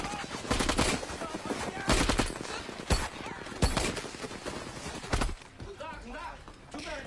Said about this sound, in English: You have a machine gun!